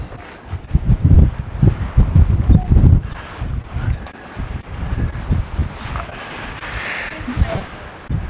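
Strong gusting wind buffets the microphone at the Grand Canyon rim, a loud, uneven low rumble that swells and falls throughout, with faint voices mixed in.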